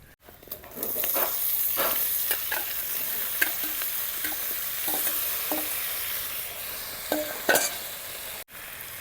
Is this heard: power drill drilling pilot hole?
no